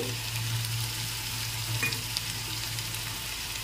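Tomato pieces fry in a ginger-garlic and onion paste, a steady close sizzle and crackle with a low hum underneath and a faint clink or two.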